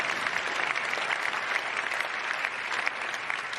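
A room full of people applauds steadily at the 2024 Laureus World Sports Awards ceremony, a dense wash of clapping that holds at an even level throughout.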